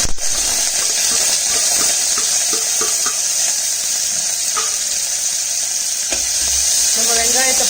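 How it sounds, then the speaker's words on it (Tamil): Onions sautéing in hot oil with a clove and a few small pieces of cinnamon for a white kurma: a loud, steady sizzle runs throughout, dotted with light clinks and stirring taps from the pan. "நம்ம வெங்காயத்தை போட்டு நல்லா வணக்கிடலாம்."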